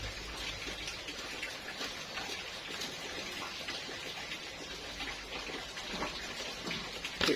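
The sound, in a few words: light drizzling rain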